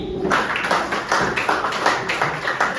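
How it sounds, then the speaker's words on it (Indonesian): A group of people in a classroom gives themselves a short round of clapping, a few uneven bursts of claps close by over about three seconds. "Tepuk tangan untuk kita sendiri."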